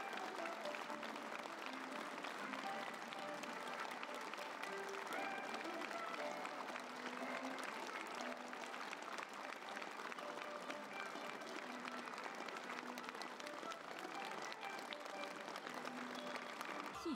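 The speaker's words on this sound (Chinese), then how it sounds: "全场响起热烈掌声" Warm, sustained applause from a large audience at a New Year gala of traditional opera, dense steady clapping filling the hall for the whole stretch without letting up.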